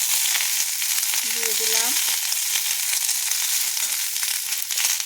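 Chopped onions sizzle in hot oil after garlic has browned, a steady broadband frying hiss filling the whole stretch, with a brief spoken phrase early on.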